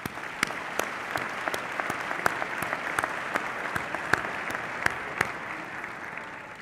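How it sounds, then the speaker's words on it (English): Hall audience at an inaugural mayoral and council swearing-in ceremony in the District of Columbia applauds steadily, with a few sharp, distinct claps or clicks cutting through the even wash of clapping. "Let's have one round of applause."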